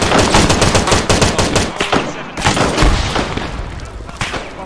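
Heavy, sustained gunfire rattles through a video game battle, with rapid machine-gun bursts and overlapping shots, loud and close, while a player briefly speaks over it.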